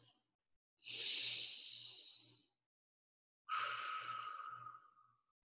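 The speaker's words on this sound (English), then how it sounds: "In my room, I take some deep breaths." Two slow, deep breaths taken to calm down, each a long airy whoosh lasting about two seconds, separated by a brief silence, close and soft.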